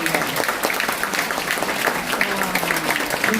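A church congregation claps together at a Korean Sunday service, a dense, steady patter of many hands filling the room at close range and continuing without pause.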